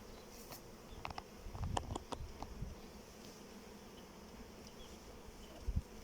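Honey bees buzz around an open hive while frames are handled, a soft steady hum with a few brief louder passes of individual bees near the ear and some handling bumps.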